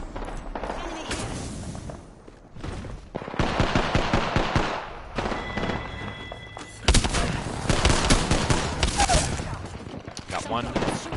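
Enemy gunfire rattles in Apex Legends, with dense bursts of automatic shots and impacts coming in waves across the scene, loud and close, mixed with game sounds and a player talking intermittently.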